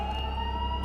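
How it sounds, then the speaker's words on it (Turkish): Under a second of a steady police siren wail in Minecraft, held at an even pitch and moderate level with no voices. "Dostlarım bir dakika polis sesleri geliyor."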